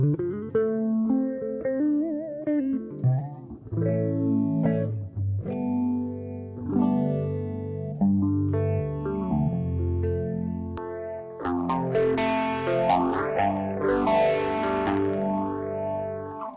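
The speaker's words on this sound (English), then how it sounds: "Reverbotron, which is reverb." Electric guitar chords ring out through a Raspberry Pi-based reverb effect pedal, with a swirling, washy tone that swells and sweeps over sustained notes, no talking.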